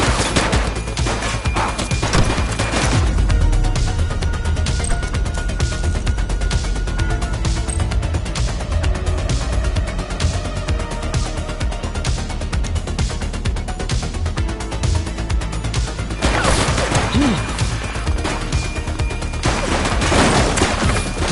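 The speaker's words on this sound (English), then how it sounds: "Shots fired!" Gunfire in The Precinct video game, dense bursts of rapid shots that fill nearly the whole stretch, loud and close, with heavier volleys near the start and again later.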